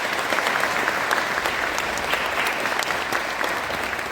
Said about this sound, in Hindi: एक बार हम सब खुद के लिए जोरदार तालियां बजाएंगे।